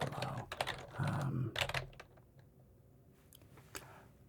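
Fingers type on an old Dell computer keyboard, quick bursts of close clicking keystrokes at first and then sparser taps fading to quiet, with no voices.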